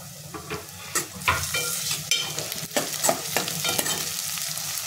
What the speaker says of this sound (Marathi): कांदा छान परतला गेलाय, त्याच्यामध्ये टोमॅटो टाकून घेते